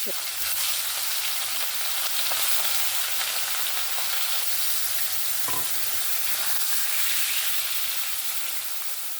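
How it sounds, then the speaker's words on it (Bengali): Fish pieces frying one by one in hot oil in a wok, a steady broadband sizzle running throughout with a brief sharper crackle midway as another piece goes in. "যতক্ষণ সেখানে আমার মাছটা ভাজা হচ্ছে"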